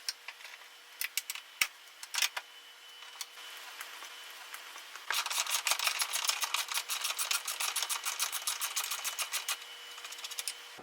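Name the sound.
ratchet loosening 16mm bolts on Saab motor mount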